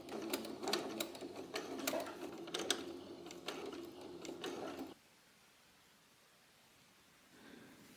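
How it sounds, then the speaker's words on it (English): A domestic sewing machine runs a steady, fast mechanical stitching whir for about five seconds, topstitching an Edwardian Gibson Girl blouse, then stops, leaving near silence with a faint rustle near the end. "top stitch it closed, and placed it over the gathers in the waist of the back and top stitch that in place"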